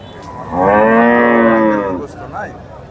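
A single long, loud cow moo rises and holds for about a second and a half, then trails off into quiet outdoor background noise at a cattle market in Bangladesh.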